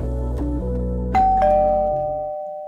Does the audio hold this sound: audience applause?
no